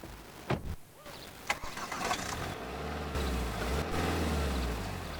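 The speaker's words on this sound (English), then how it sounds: "It still sounds like a diesel to me." A Ford diesel car engine cranks and starts, then settles into a low, steady idle close by, with a clatter of starter noise before the running engine takes over.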